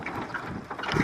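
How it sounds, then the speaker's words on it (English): Wind buffets an outdoor microphone in brief uneven gusts, rough and mid-loud, with nothing else distinct. "Oh, it's windy."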